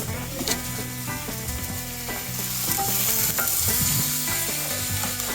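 Food frying in a pan while pho is cooked, a steady sizzle with stirring and clinks of utensils against the pan, close and fairly loud, with no talk.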